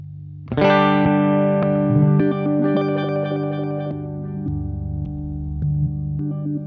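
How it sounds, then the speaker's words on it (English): A sustained electronic synth tone pulses through stepped, repeating note changes from an Alexander Superball delay pedal's sequencer, with echoing delay and distortion, playing alone at a steady level. "get ourselves some sequence effects"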